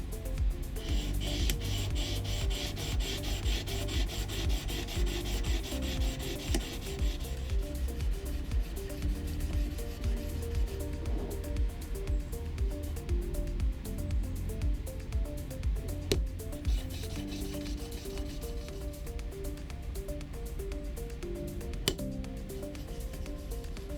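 Shop-made gear cutter faces are ground flat on a sharpening stone, a steady, continuous scraping and rubbing that goes on with an even back-and-forth rhythm and no talk.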